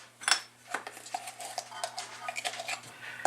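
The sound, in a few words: sifting and mixing flour in a bowl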